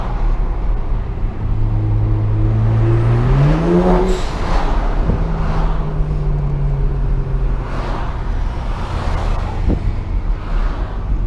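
A car with a DCT gearbox pulls in fourth gear, its engine droning loudly and rising in pitch before settling into a steady, close rumble with road noise.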